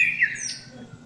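Birds chirp in desert trees near Abu Dhabi, a few quick high sweeping calls up close over a quiet background, brief and clear.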